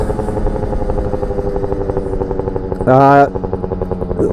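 A Yamaha Jog scooter with a modified clutch and variator revs hard during a wheelie, a steady buzzing two-stroke engine drone that rises briefly to a louder higher-pitched scream before settling back.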